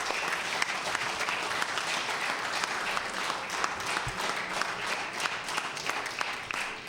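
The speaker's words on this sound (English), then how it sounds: "I would ask if all members would give them a warm round of applause." Steady applause from members filling a legislative House of Assembly chamber, a dense continuous patter of many hands at moderate volume that holds evenly for several seconds with no voices on top.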